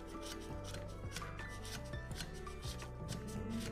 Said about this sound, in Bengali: আর ঘষছি দেখো, মোটা মোটা ছিদ্র দিয়েই আমি ঘষে নেব।